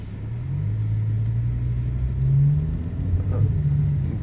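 A car with a BMW S85 V10 engine swapped in and a DCT gearbox accelerates on the road, its deep engine drone rising in pitch through a gear, dropping, then climbing again from inside the cabin.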